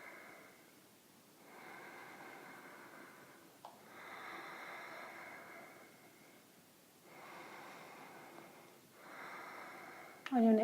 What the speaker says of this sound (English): Nice long deep breaths.